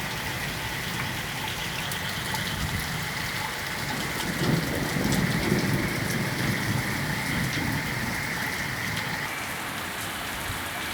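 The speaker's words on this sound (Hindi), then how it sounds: "ये देखें जी, क्या ज़बरदस्त बारिश है, मूसलाधार है" Heavy torrential rain pours down onto ground with pooled standing water in a dense, continuous roar, with a low rumble swelling briefly in the middle.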